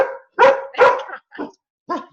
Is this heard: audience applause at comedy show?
no